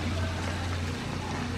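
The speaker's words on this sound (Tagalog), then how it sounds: "Alagyan ko na ng tubig." Water poured into a pot of goat meat being cooked for biryani, a steady rushing, splashing noise that runs continuously and fairly close, with no talking over it.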